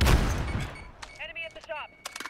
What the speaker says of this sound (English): that guy got a fucking light machine gun. Firing off of it. Firing off like crazy